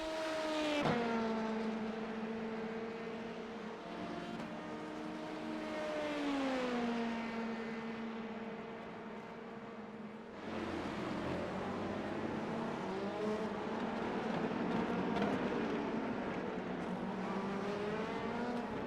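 An LMP2 prototype race car engine in the iRacing simulator, revving up and down through gear changes with rising and falling whines, steady and loud throughout, no talk.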